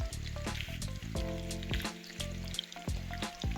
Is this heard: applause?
no